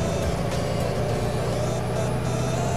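Hino truck engine accelerating under an overloaded cargo in Euro Truck Simulator 2, a steady loud mid-pitched engine drone with a slight rise, no speech.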